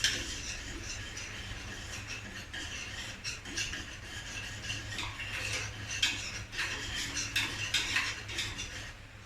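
A spoon stirring sweetened condensed milk into warm agar in a pot for zebra bread pudding, with steady light scraping and clinking against the pot, close and continuous over a low background hum.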